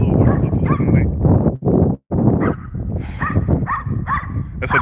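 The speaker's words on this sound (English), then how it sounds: "Did I just hear a dog? Oh, that's a little chihuahua." A small chihuahua barks outdoors, with quick sharp yips and barks in fairly loud, irregular bursts mixed with rustling and a person talking nearby.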